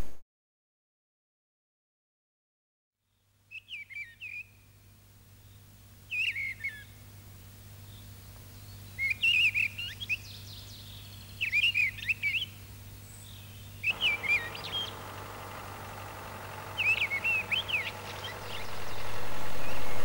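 A western capercaillie calls in a Carpathian mountain forest in Romania, giving short, sharp call bursts that repeat every few seconds against a quiet, low-humming background.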